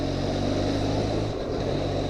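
A Benelli TRK502 motorcycle engine drones steadily while riding, a loud continuous hum with wind rush and no distinct gear changes, heard from the rider's position.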